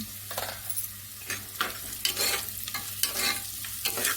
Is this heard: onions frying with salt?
yes